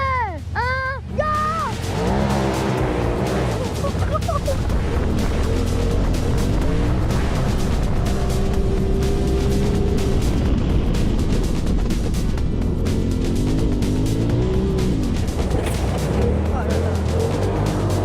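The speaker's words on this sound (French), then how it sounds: "Fais une grosse accel là déjà en 4 roues." Off-road buggy pulling away hard from a standstill in four-wheel drive, its engine roaring loud and close throughout with rising revs, while voices shout and talk over it.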